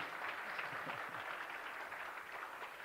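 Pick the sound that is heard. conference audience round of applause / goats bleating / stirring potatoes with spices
conference audience round of applause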